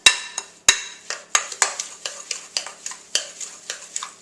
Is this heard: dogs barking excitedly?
no